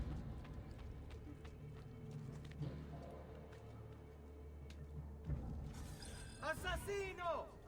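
Hooves clip-clop from a horse in the Assassin's Creed 2 video game, a faint steady trot under low ambient hum, followed by a burst of tonal game sounds near the end.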